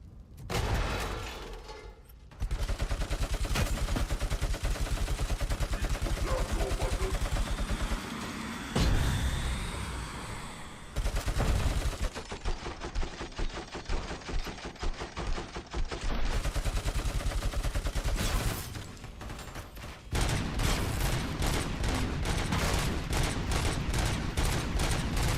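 Loud, sustained gunfire in RoboCop: Rogue City: rapid automatic bursts and heavy shots hammer almost continuously, broken by brief pauses and mechanical clatter.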